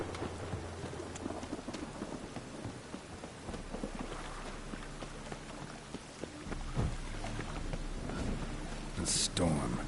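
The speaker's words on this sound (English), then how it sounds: "A storm, damn it." Steady rainstorm in The Witcher 3: Wild Hunt pours across the scene with constant hiss and patter, while thunder rumbles low and a sharper crack hits near the end; a voice speaks over the rain.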